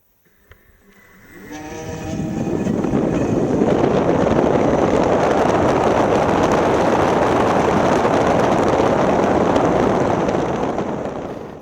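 Zero S ZF7.2 electric motorcycle from 2020 pulling away and riding on the road, a rising whine at the start giving way to a loud, steady rush of wind and road noise.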